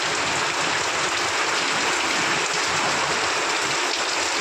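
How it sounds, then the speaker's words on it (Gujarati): Rain pours steadily outside a family home, a loud unbroken wash of hiss and patter filling the whole stretch with no voices over it. "ભાઈ મેઘરાજ વરસ્યા છે"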